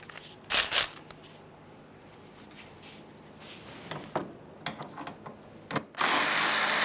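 A hand ratchet backs out two 8mm headed bolts holding the bumper cover bracket to the front fender of a 2013-2020 Ford Fusion, giving several short bursts of clicking separated by quiet gaps, followed by a louder sustained rasp near the end.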